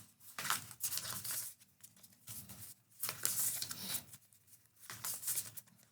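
A deck of game cards is shuffled by hand during a tabletop board game, giving three rapid riffling bursts of papery crackle separated by short pauses, close and moderately loud.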